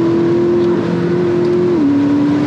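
McLaren MP4-12C sports car engine holding a steady, loud tone, then shifting and rising slightly in pitch as it revs on a downshift, with no talk over it.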